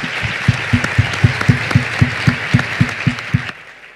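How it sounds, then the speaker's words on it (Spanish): At a science congress, an audience applauds panelists with rhythmic unison clapping, a steady beat of about three claps per second over a bed of scattered applause, stopping abruptly near the end. "Un aplauso para nuestras panelistas."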